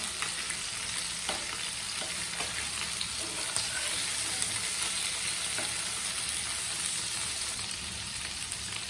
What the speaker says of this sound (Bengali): আমার মাছগুলা ভাজা শেষ